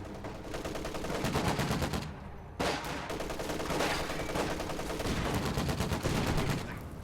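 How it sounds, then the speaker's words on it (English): Dense machine gun fire rattles through a World War II video game battle with Axis tanks and charging grenadiers, steady overlapping bursts of automatic fire, loud and continuous with a brief lull midway. "these grenadiers just insist on charging in this tight little clump right into machine guns"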